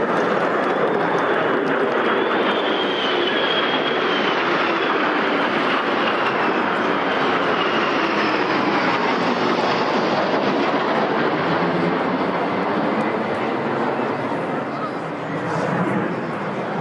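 An RC-135 Rivet Joint escorted by two Lightning jets roars overhead during a London Victory Day parade flypast. The broad engine thunder holds loud and steady, with a slowly shifting whine, and voices are heard underneath.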